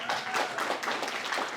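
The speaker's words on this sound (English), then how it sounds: "another round of applause, please" A short burst of audience applause at a Q&A event, steady and fairly soft, with no speech over it.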